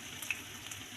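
Potatoes sautéing in a pan give a soft, steady sizzle with faint crackles. It is quiet and close, with no voices over it.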